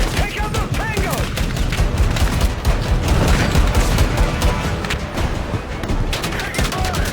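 Rapid, dense gunfire in the Battlefield 6 campaign, overlapping bursts and shots crackling loudly and continuously with shouted voices mixed in.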